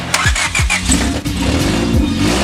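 A swapped third-generation race car engine cranks over in a couple of quick starter bursts, then catches and settles into a loud, steady idle up close.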